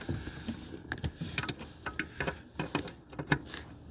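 A wrench works loose a bolt on the EGR valve of a 2005 Ford Taurus, giving a close run of sharp metallic ticks and clicks in an irregular rhythm, with no voices over it.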